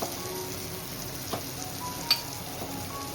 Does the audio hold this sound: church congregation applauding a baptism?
no